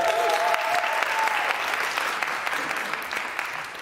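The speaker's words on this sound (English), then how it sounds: "Let's give it up one more time for the hexagons as they find their nerve" Audience applauding at a worship service, a dense, continuous wash of clapping that holds steady and slowly softens, with a brief tone and faint voices mixed in.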